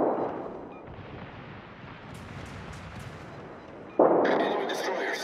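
Naval gunfire in the World of Warships game comes as a heavy boom at the start, a low rumbling stretch, then a second loud blast near the end with crackling tail, distant and mixed with game effects.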